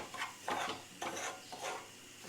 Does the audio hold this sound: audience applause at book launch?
no